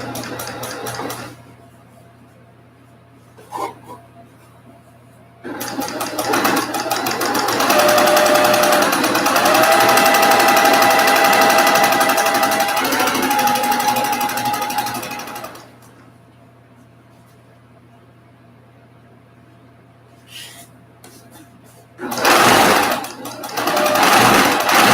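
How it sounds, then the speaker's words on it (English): A sewing machine runs fast in one long, loud continuous burst as it stitches a quarter-inch seam on a summer sampler quilt block, with quiet talk before and after. "So I'm going to sew this one."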